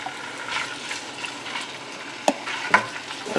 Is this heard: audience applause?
no